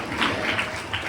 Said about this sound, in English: So a big round of applause to our students for presenting something for our teachers.